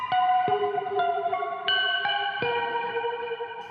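Eerie plucked guitar notes, played behind the bridge through a Keeley Parallax Spatial Generator, ring out one after another with a shimmering, chorus-like effect, each sustained tone hanging and overlapping the next.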